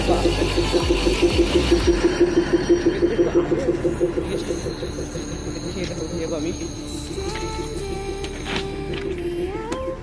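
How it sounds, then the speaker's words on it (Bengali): A loud, rhythmic mechanical clatter of a local train near Kanki, rapid regular clacking that eases into a steadier rumble with faint voices in the background. "ট্রেনটা আমার পিছনে আছে"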